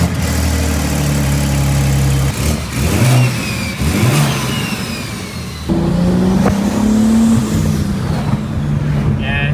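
A wrecked and rebuilt 2023 BMW M3 engine fires up and revs, rising and falling through several throttle blips before settling into a steady idle, loud and close, with a voice talking over it.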